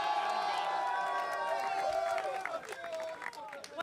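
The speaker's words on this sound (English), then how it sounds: "can we get one more round of applause for your TI champs?" Arena crowd at The International 2017 Dota 2 grand final cheering and applauding the champions, a dense roar of clapping and shouts with whoops, heard from within the crowd with voices talking over it.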